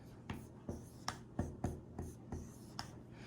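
Pen strokes scratch across paper as an equation is written out by hand during a measurement task, a series of short, close, quiet scrapes in an uneven rhythm with no talking.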